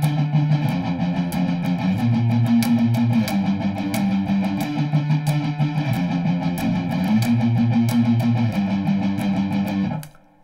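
Electric guitar playing the main riff of a song, a four-note figure repeating steadily and evenly with a bright, slightly driven tone, played alone and ending abruptly.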